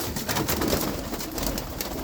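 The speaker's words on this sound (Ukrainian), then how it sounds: "Голуб, ось ще голубочка є." Pigeons coo close by in a steady, continuous flock murmur, dense and unbroken for a couple of seconds with no voices over it.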